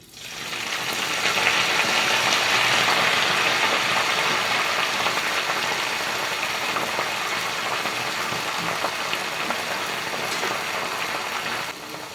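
Washed gongura (sorrel) leaves hit hot tempering oil already holding seeds, red chillies and curry leaves, setting off a loud, steady sizzle and crackle that holds strongly for several seconds, then settles into continuous frying.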